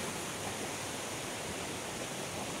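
Steady broadband rush of river water flowing in a stream near a chili garden, continuous and fairly close with no talk.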